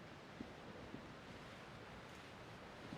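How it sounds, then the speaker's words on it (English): Quiet ocean ambience in Disco Elysium, a faint steady hiss of distant surf and wind with a few soft low thumps, no voices. "You can hear the ocean."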